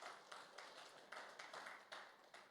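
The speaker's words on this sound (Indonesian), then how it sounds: "Mari kita berikan tepuk tangan buat Tuhan kita." A church congregation clapping together during a worship service, with faint, evenly spaced rhythmic claps that sound distant and soft.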